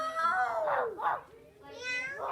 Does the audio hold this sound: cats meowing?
yes